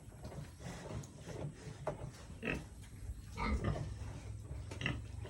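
Grunts from a large farm pig in its pen, a series of short rough snorts spaced irregularly over steady low background noise, fairly close.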